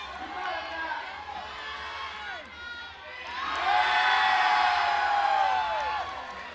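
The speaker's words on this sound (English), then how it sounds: "The crowd is going wild." Crowd cheering wildly at a climbing competition final, a far roar of whoops and shouts that swells louder halfway through, with a commentator talking over it.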